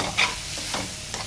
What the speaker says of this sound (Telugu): ఫ్రై అవుతున్నాయి మంచిగా. ఇలా ఫ్రై అవుతూ ఉంటే మంచిగా కలిపేసుకోవాలి.